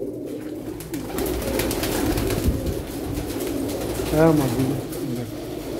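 Domestic pigeons of a breeding pair coo in a loft, with one clear, resonant coo standing out near the end. Someone talks over a steady background murmur for much of the time.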